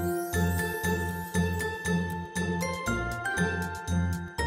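Jingle bells shaking in a steady rhythmic pattern, bright tinkling bursts repeating about every half second over a soft musical backing, close and clear.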